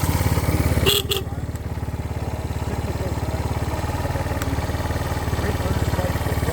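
A Honda Reflex TL200 trials motorcycle engine idles steadily with a fast, even putter, close by and fairly loud, after a brief clatter near the start.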